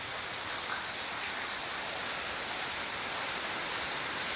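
Heavy rain pouring down outdoors, a dense, continuous hiss of drops hitting surfaces, steady and loud with no breaks or voices.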